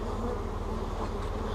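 A dense, steady hum of many bees fills a queenless laying-worker hive, the buzzing loud, close and continuous throughout.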